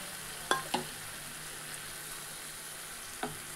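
Cashew and poppy seed paste hits a hot pan with a few sharp sizzling bursts, then settles into a faint, steady fry; no one talks.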